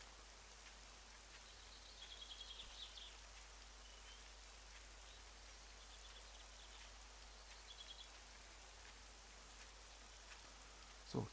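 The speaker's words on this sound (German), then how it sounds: "Dennoch bei Regen." Steady rain falls in the game 7 Days to Die, a faint, even hiss with occasional soft drips and no voices.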